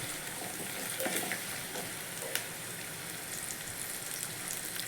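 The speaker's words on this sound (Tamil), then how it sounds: "ஆனியன் வதங்கிட்டு இருக்கும் போதே பச்சை மிளகாவையும் பூண்டையும் நசுக்கி வச்சுருக்கோம்" Chopped onion sautéing in a pan with crushed green chili and garlic, giving a steady broadband sizzle with a few soft stirring scrapes and clicks over nearly five seconds, close and unbroken, with no talking.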